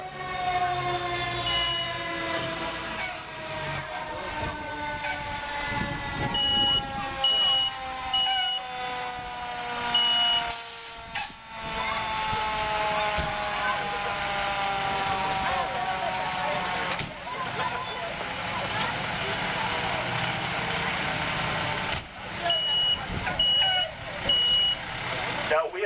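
A fire department truck in Peapack-Gladstone, New Jersey pulls up with a loud, steady diesel rumble, repeated warning beeps and hissing air brakes, heard close by amid ongoing background noise.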